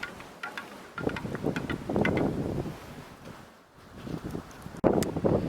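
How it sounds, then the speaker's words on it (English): Wind gusts and roars across an outdoor bushcraft camp near a shelter and campfire at night, swelling and easing in uneven surges with rustling, loud and close on the microphone. "you can probably hear that wind"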